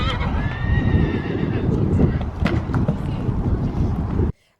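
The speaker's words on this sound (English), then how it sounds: "She whinnied to him, he whinnied back." A horse whinnies in a high, wavering call early on, answering another horse beside a horse box at a show jumping competition, amid outdoor wind noise and a low rumble, ending abruptly in silence.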